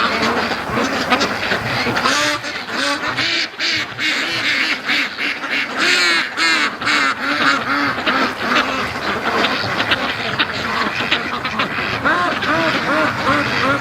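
A flock of free-range ducks quacks constantly and overlapping near a lake, loud nasal calls piling up in a busy chorus with no clear pauses, close to the microphone.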